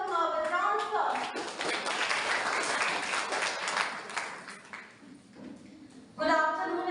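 An audience at an inter-school English elocution event gives a round of applause, a dense burst of clapping that builds and then fades. A voice speaks at the start and again at the end.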